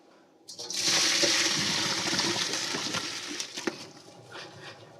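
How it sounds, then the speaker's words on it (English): Boiled string beans and potatoes are strained into a sink, their cooking water pouring out in a loud, steady rush that starts after a brief pause and tapers slightly toward the end. No one speaks. "Let me strain the string beans and potatoes together."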